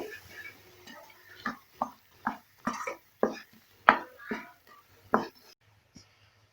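Ground moong dal being stirred in ghee for Tamil Ashoka halwa, a spoon or spatula knocking against the pan in a series of distinct clinks and scrapes, fairly close, with no talk.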